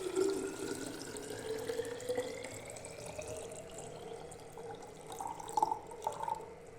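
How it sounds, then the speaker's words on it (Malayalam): Water runs into a Milton water bottle, a steady gurgling stream whose pitch rises as the bottle fills, ending in a few splashes, with no talking. "പിന്നെ കൊണ്ടുപോകാനുള്ള വെള്ളം ഒഴിക്കുന്നുണ്ട്"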